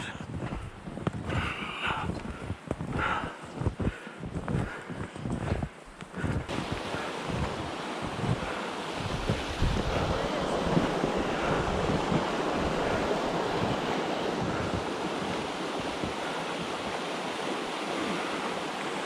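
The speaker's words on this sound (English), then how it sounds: "we hear the waterfall very loudly now" Crunching snowshoe footsteps in snow, then a steady, loud roar of a Michigan waterfall, Tibbets Falls, that continues unbroken.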